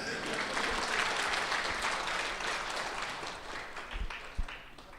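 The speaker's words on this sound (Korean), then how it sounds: "박수 보내세요" An audience at a Korean Christian business conference in Tokyo applauds after a speaker's talk on family life, a full steady clapping crowd that gradually thins toward the end, with a couple of louder thumps.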